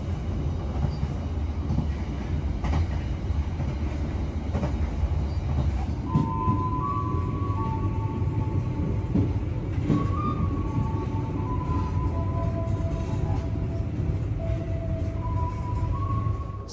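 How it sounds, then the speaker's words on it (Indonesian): The Ranggajati business-class train rumbles steadily from inside a carriage as it pulls away from Ciledug station, with a continuous low roll and faint wheel squeals rising over it. "kereta api Ranggajati tiba di stasiun pemberhentian pertama, stasiun Ciledug"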